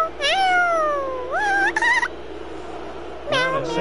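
A human voice imitates a cat, giving a drawn-out rising meow followed by a couple of quicker meows, then another short burst after a pause, loud and close.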